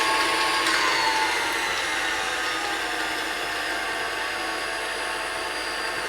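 An electric mixer runs steadily at low speed as eggs and vanilla go into creamed butter and sugar for a lemon cake batter, a smooth, constant motor whir with no talking.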